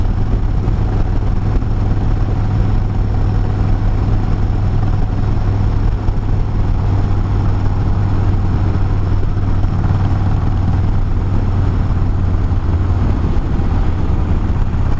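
A 1994 Harley-Davidson Sportster 1200 motorcycle being ridden, its engine a steady, loud low drone that holds without pause through the whole stretch, with no talking.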